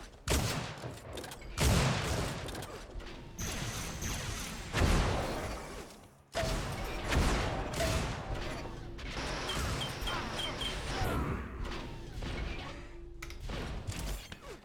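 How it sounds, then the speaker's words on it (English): A link gun fires in Unreal Tournament in dense, sustained bursts of rapid energy shots, punctuated by clanks and sharper impacts across a busy, loud stretch of arena combat. "More link gun action there."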